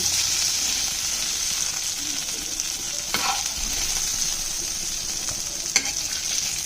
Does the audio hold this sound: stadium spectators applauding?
no